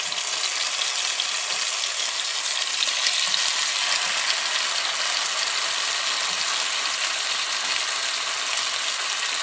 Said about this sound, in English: I'm just going to be putting these into the frying pan